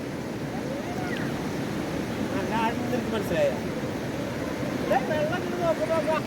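The swift Chalakudy river near the Athirappilly falls churns in a continuous, full rushing wash close by, with soft voices faintly audible above the flow.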